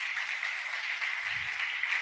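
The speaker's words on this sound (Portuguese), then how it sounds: "Pode dar uma salva de palmas para o pastor Diogo." Church congregation applauding a pastor, an even wash of clapping at moderate distance, sustained for a couple of seconds.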